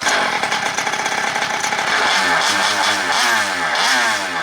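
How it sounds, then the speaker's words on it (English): A 49cc gas-powered Primal MT toy monster truck engine buzzes and revs loudly up close, first a rapid rattling putter and then a rising, wavering whine as the throttle opens. "It takes a lot of revs to get it going."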